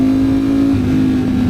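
A 2025 Ducati Streetfighter V4S motorcycle engine drones loud and steady while riding, a sustained close engine tone with a slight pitch dip midway, no talking.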